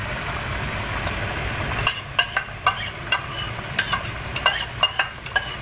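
A spoon stirs yogurt mixed with white cumin into fried masala for chicken korma, giving soft, quiet scraping strokes and a few sharp clicks against the pot over a low background hum.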